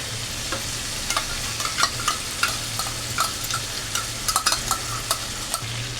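Prawns fry in a hot pan with a continuous soft sizzle, punctuated by repeated sharp clicks and scrapes of stirring.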